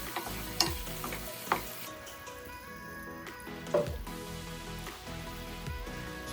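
Pepper steak sauce cooks in a pan, a soft continuous sizzle and bubbling with occasional scrapes and taps of a utensil stirring, quiet and close.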